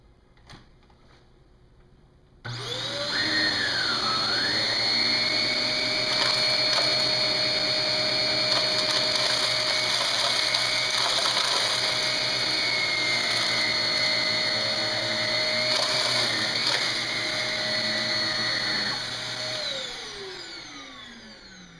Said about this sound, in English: Let's activate the Shark Navigator and try it first on our deep pile carpet.